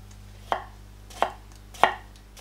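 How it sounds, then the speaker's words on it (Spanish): A knife slices a peeled carrot into thin rounds with three sharp, close chops, spaced roughly evenly apart, over quiet background hum. "Pelamos la zanahoria y la cortamos en finas rodajas"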